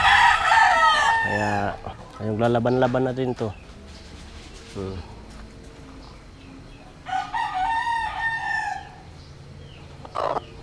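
A small rooster on a farm, scaleless-legged and jungle-fowl-like, crows and clucks close by while someone talks over and between the calls.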